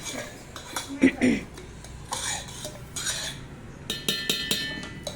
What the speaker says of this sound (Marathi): प्रथम आता हे आपण एका स्टीलच्या भांड्यात घेतलेलं आहे रवी घेतलेला आहे मम्मीनं आणि ही पहिल्यांदा असंच घुसळती आहे